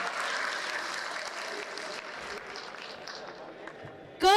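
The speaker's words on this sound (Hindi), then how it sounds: "एक बार ताली बजाइए।" Audience applause at a mushaira poetry gathering in Delhi, a moderate wash of clapping that slowly thins, with a voice briefly heard at the end.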